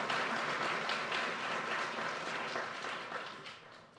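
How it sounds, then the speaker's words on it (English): A large crowd applauds at a university graduation ceremony, a dense, steady wash of clapping that fills the hall and slowly fades over a few seconds, with no speech over it. "Let's give ourselves another round of applause for this amazing achievement."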